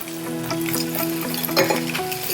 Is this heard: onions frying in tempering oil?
yes